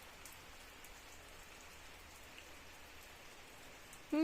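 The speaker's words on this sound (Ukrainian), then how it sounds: "але дощик іде без грози" Steady rain patters without thunder across the clip, a soft, even hiss of drops on surfaces, followed by a brief louder noise at the very end.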